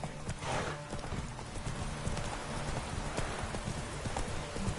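Geralt's horse gallops in The Witcher 3, its hooves clip-clopping in a quick steady rhythm that runs throughout, with rain or ambient game noise underneath.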